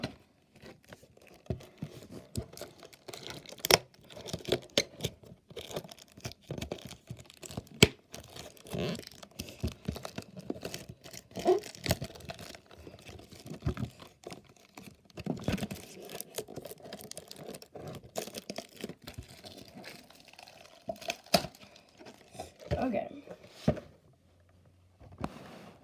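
A trading card pack's wrapper is ripped and crinkled by hand in quiet, irregular bursts of tearing and crackling, close up, with short pauses between pulls.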